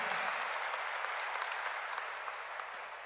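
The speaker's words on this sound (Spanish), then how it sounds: "Le damos un aplauso a Cristo" Congregation applauding in church on Easter Sunday, a continuous soft patter of many hands clapping, fairly quiet and even, with no voices.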